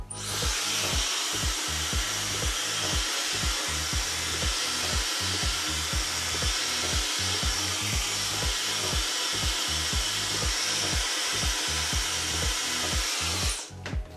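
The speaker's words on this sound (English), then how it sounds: "If your blow dryer has a cold shock button," A hair dryer runs continuously with a loud, steady rushing whir and rapid rhythmic flutter, then cuts off at the end.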